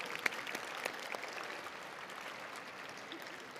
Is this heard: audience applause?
yes